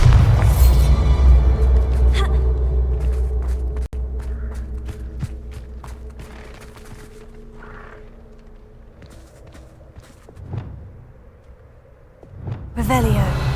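Bombarda blasting spell in Hogwarts Legacy gameplay: a deep booming impact with rumbling low end at the start, then footsteps, scattered clatter and small thuds, and a second burst near the end.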